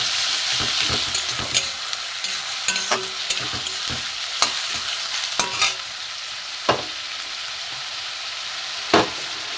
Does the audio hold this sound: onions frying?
yes